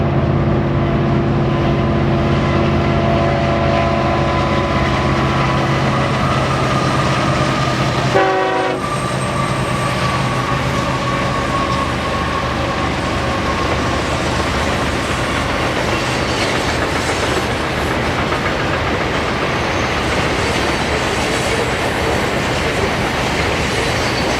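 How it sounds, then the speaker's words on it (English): Union Pacific manifest freight train led by locomotive UP 1982 rolls east through the Columbia River Gorge near Wishram, Washington, a loud, steady roar of engine and wheels with a brief horn-like tone midway, no voices. "a manifest heads east with UP's 1982 on the point."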